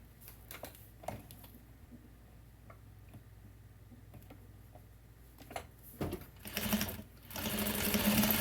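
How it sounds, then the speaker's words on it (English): A sewing machine stitching a quarter-inch seam on a quilt block, faint rapid mechanical ticking with brief starts and stops, then louder bursts of fabric rustling and handling toward the end. "I'm going to stitch 1/4 of an inch right here."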